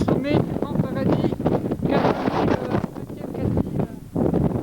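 Wind gusting across the summit of Gran Paradiso in the Alps, rushing and buffeting the microphone steadily throughout, with voices talking over it.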